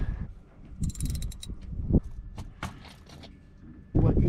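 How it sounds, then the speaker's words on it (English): Wrench ratcheting on the 1/2-inch carburetor mounting nuts of a 1966 Mustang with a Holley 4160, in short bursts of clicks and metallic clinks close up, with faint talk between. "we're gonna take off the mounting nuts, which are 1/2-inch nuts."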